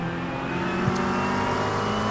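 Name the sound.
race car engine passing in iRacing video game at Spa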